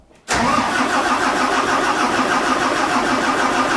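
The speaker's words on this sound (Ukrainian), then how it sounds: "Машина зараз заведеться, Юра заведе її." A diesel Renault car engine cranks and catches after a brief quiet moment, then settles into a loud, steady idle close by.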